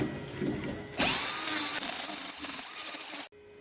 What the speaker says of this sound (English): I'm going to quickly trim that next foot